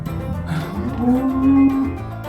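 A large sacrificial bull kept for Qurban gives one long, loud, close moo that swells in the middle and then fades, with no talking.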